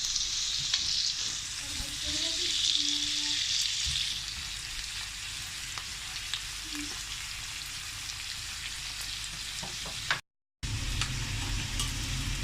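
Onion frying in oil for a spiced liver (kaleji masala) gravy, giving a steady, even hiss with a few faint stirring ticks and a brief dropout near the end, with no speech.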